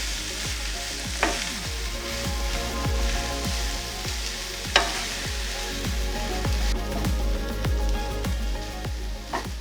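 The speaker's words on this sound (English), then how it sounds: "prepared jackfruit mix into the onions. So just stir that around until it's all kind of mixed." Jackfruit mix and onions sizzle loudly in a pan, a steady close frying hiss broken by repeated scraping stirs and occasional clacks of the utensil, with no one talking.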